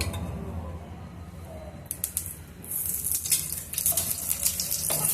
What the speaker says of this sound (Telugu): ఆయిల్ వేసుకొని కొద్దిసేపు వేయించుకున్నాము ఇప్పుడు ఈ మనము ఉల్లిపాయ ముక్కలు కూడా కొంచెం వేయించుకున్నాము